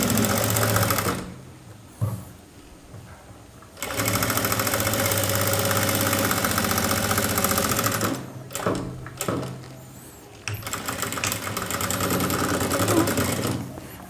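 A sewing machine stitches a saree blouse in several bursts of fast, steady rattling, broken by brief pauses and soft handling noises, running close and loud throughout.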